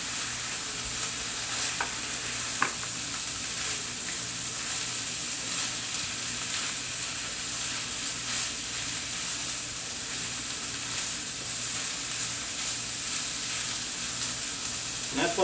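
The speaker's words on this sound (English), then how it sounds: "You can hear we're getting a good hard sear on this now." Ground beef searing hard in a pan, a constant loud sizzle and crackle with occasional stirring scrapes, steady throughout with no talking.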